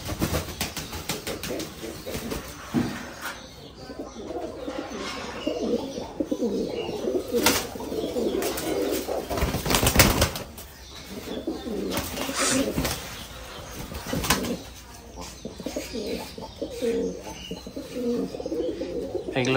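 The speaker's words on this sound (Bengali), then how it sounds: "এগুলো হচ্ছে লাক্ষা কবুতর, তবে এগুলো আমেরিকান" American lakha pigeons cooing in a loft, repeated low throaty coos with occasional wing flaps and chirps, close and fairly loud throughout.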